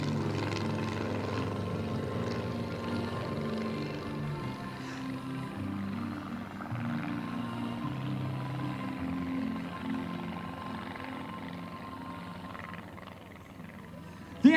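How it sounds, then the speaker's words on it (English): A light aircraft built in 1996 and powered by a VW 1600cc Beetle engine drones steadily overhead at an air display, a continuous rough engine hum that swells and fades slightly as it passes, with faint crowd noise beneath. "The aircraft, it was built in 1996 by V.A. Wordsworth. It has a VW 1600cc Beetle engine producing just 50"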